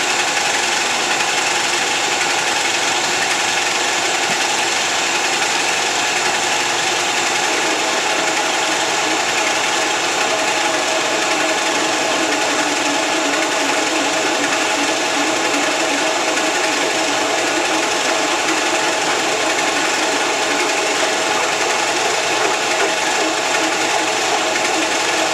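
A milling machine hums steadily and loudly as its quill feeds down, machining a part for a 1959 BSA C15T motorcycle, with a constant whirring drone and no talking.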